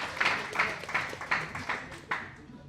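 Applause from an audience at a stand-up comedy competition, a patter of claps with regular sharp peaks, moderately near, under a talking voice.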